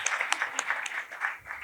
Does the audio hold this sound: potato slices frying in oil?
no